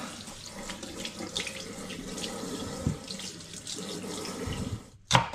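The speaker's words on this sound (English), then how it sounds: "Give them a little rinse." Fruit for a homemade mixed-fruit cider is rinsed under a running kitchen tap, a steady close stream of water splashing into the sink, ending with a short clunk.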